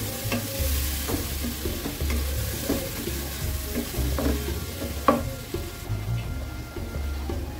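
Potatoes frying in a pan while being stirred: a steady sizzle with soft repeated scraping and an occasional sharper clink of the utensil, over a low background hum, with no one speaking.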